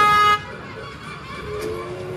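A toy train ride at the Khatu Shyam temple gives one short, bright toot at the start, then its approach fades into a general hum of outdoor crowd and motion noise.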